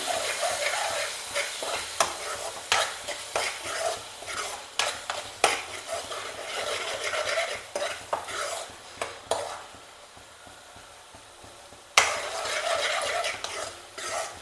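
Curry fries in oil in a pan with a low sizzle, while a spoon scrapes and stirs in repeated strokes that pause briefly near the end.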